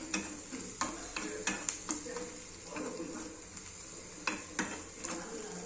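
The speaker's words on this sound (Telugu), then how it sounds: "ఇది ఇంకోసారి ఫ్రై చేస్తున్నాను" Onions with salt frying in a pan, a quiet sizzle broken by repeated clinks and scrapes of a spoon against the pan.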